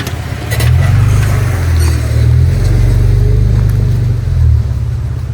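A four-wheel-drive vehicle pulls slowly into a campsite in the Georgia mountains, its loud low engine rumbling steadily close by with a few small surges, over crunching ground noise.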